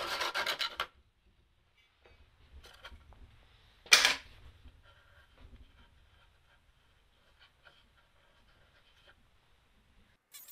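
An excess wooden dowel is cut off flush on a reclaimed plywood bookshelf: a short rasping saw burst, then a sharp snap as the piece breaks away, followed by faint scattered clicks and light handling noises in near silence.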